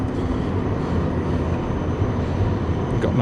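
A tram passing along a city street at sundown, a steady close rumble of wheels and motor with a broad low roar that holds level throughout.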